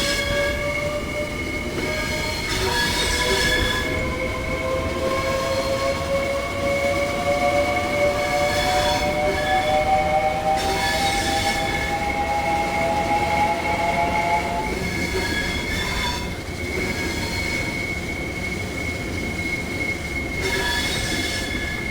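In the Train Sim World 3 game, a very long train on the 5L90 Dartford to Gillingham service rolls continuously with a loud, steady rumble, overlaid by drawn-out, shifting metallic wheel squeals.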